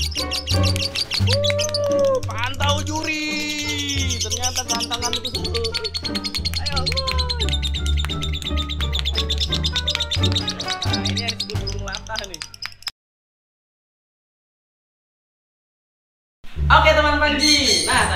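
Australian budgerigars, or parakeets, chatter and chirp rapidly and continuously up close, their warbling flock calls filling the air before a brief silence and a final burst of chirps.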